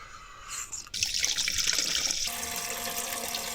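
Water runs from a faucet into the small sink of a DIY camper van, beginning with a sudden gush and then flowing steadily and close by, with no talk.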